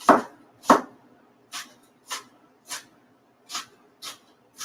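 Onions being chopped on a board during live home cooking, eight crisp knife strikes at a steady rhythm, the first two loudest and close, the rest lighter and evenly spaced, with no talk.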